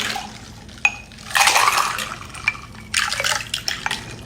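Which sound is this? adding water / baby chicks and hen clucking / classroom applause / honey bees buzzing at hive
adding water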